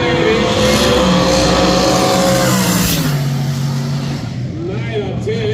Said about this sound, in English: Oh, the revs are singing pretty loud there.